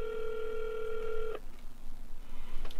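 A telephone tone from a call to the Polish Ministry of Foreign Affairs sounds steadily for over a second, then cuts off into a quiet line with faint background noise.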